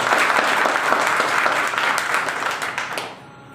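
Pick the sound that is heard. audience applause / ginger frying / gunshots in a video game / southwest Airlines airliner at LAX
audience applause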